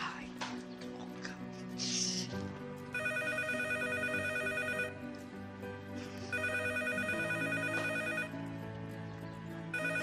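A telephone ringtone repeats in a steady electronic warble, two long bursts separated by a pause, while someone speaks over the start, waiting for someone to answer.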